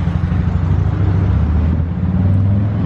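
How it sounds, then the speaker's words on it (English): A 2017 Mercedes E-Class idles after starting, its exhaust giving a steady, loud, low rumble that holds evenly with no talking. "start it up, and let you listen to the exhaust sound."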